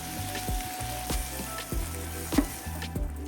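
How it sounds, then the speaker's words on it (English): Sweet and sour sauce with white sugar, brine and lime juice sizzles and simmers in a pan, a steady close frying crackle with a few soft stirring knocks, no voices. "Cook the sauce until it slightly thickens."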